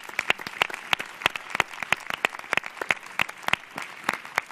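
Audience applause for a speaker at a creativity event, a smaller group clapping with distinct, sharp individual claps in a quick irregular rhythm, steady and close.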